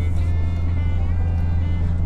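A 2023 Foton Thunder 4x2 automatic pickup engine braking while going downhill: a steady low engine drone with road noise from inside the cab, loud and continuous.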